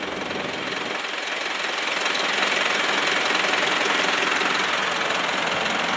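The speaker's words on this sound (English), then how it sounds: "It runs real quiet for a diesel, I must say." A 2010 Mitsubishi Fuso turbo diesel dump truck engine idles steadily and fairly quietly, with a constant low rumble and faint knocking that hold for the whole span with no talk.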